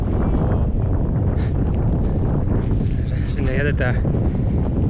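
Steady wind buffeting the microphone in a constant roar at a lake in the Lapland wilderness, with a person speaking briefly in Finnish over it.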